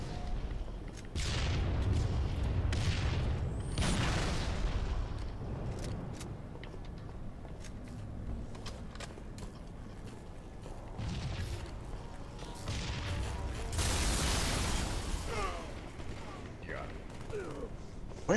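Gunfire in the video game Halo 3, bursts of shots and booming impacts across a noisy match, rapid cracks clustered at several points, with a player talking over it.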